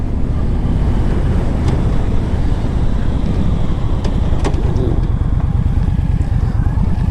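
Yamaha V Star 1300 motorcycle, a 2009 model with a 1300 cc engine, rumbling steadily and loudly on a test ride, its drone mixed with constant wind buffeting across the microphone throughout.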